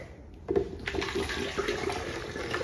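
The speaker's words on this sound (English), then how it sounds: "So now we're gonna pour our juice into the blender." Juice pours steadily into a blender with a gurgling, splashing rush that starts abruptly and continues at a moderate level, close by.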